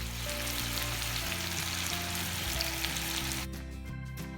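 Chicken pieces shallow frying in a pan of oil with curry leaves give a steady, loud sizzle and crackle throughout, with low pan noise underneath.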